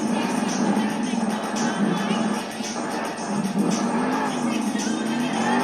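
Monster Mutt Dalmatian monster truck revving hard at a Salt Lake City Monster Jam event while going for a sky wheelie, a loud sustained roar of engine and tire noise with crowd and commentary underneath.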